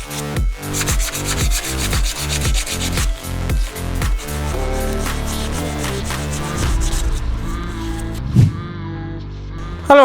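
A hand file rasps back and forth over a cut Harley-Davidson Sportster steel fender, loud repeated strokes in a steady rhythm that give way to a smoother continuous scraping.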